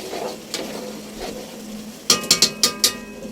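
Beef innards for papaitan sauté in a pan with aromatics and long chili, a soft steady sizzle under a few light stirs, then a quick run of five sharp metallic clanks from a utensil against the pot.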